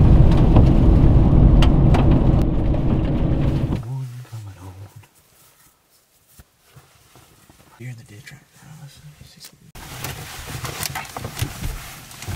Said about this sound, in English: 32 and raining.